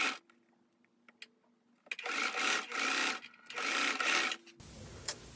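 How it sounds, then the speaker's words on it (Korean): A sewing machine runs in two bursts of fast stitching along the shoulder seams of an inner dress, sewing front and back bodice pieces in both lining and outer fabric, with quiet handling sounds before and a short clatter at the end. "몸판의 앞판과 뒷판에 어깨선을 시접선을 따라서 박음질을 합니다"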